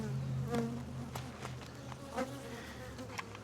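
Honeybees swarming at an open hive during a queen-marking inspection, a steady close droning buzz with wingbeat hum rising and falling as individual bees pass near, loud and continuous with no talk.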